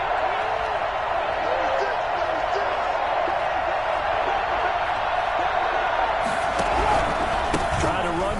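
Stadium crowd roar from a Madden NFL 21 football game, Titans versus Raiders playoff, a steady dense wall of noise throughout with a broadcast-style voice talking over it.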